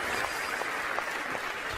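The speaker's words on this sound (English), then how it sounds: "Boy, the applause went a little long there" Applause track on a live stream, a steady even wash of clapping that runs the whole time at moderate level with no voices over it.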